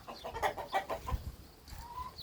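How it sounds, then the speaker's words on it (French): Several hens cluck in short, irregular bursts at close range, with a brief low thump partway through and a soft rising call near the end. "Vous voyez, les poules sont là."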